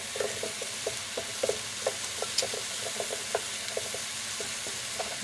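Mushrooms brown in a frying pan with a soft, even sizzle. Frequent short taps and scrapes from stirring sound close by, with no voices.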